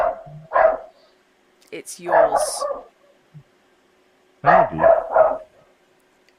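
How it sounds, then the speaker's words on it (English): A pet dog barks in short bursts in the background of a tabletop role-playing session, several yips and barks spaced apart while a voice talks over them. "Apologies for my dog."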